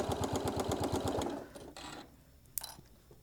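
Sewing machine stitching a gentle curve at a quarter-inch seam, a fast steady mechanical chatter for about a second and a half, then stopping, followed by soft handling noises and a brief sharp click.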